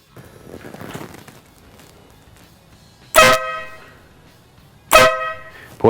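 A Wolo Bad Boy air horn fitted to a Harley-Davidson motorcycle gives two loud, close blasts a couple of seconds apart, each cutting in sharply and fading, after quieter background noise.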